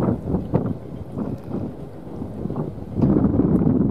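Gusty wind buffets the microphone beside fishing boats at a Ninh Thuan fishing port, rumbling in uneven surges that swell louder toward the end, with no voices.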